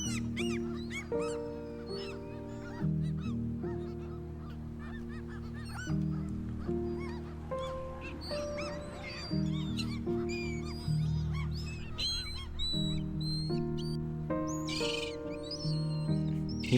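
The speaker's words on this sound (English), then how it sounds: "It's nice to hear like in the background and stuff, birds." Geese honking and other waterfowl calling by the water in Trondheim's Bakklandet quarter, repeated calls layered over steady background music throughout.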